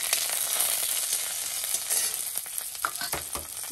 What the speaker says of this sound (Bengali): কাঁচা লঙ্কাটা দিয়ে দিই